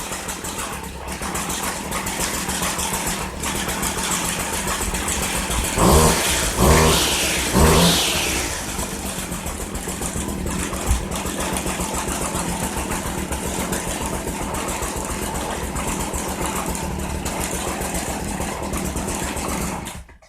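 A used Stihl FS 56 RC string trimmer with a busted primer bulb runs steadily close by, a buzzing small two-stroke engine holding a constant idle with a few brief revs and sputters near the middle.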